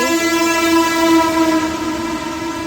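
A train horn sounds long and loud, sustained over steady rail rumble as the train pulls into Bilimora junction on the Ahmedabad–Mumbai Central route in Gujarat.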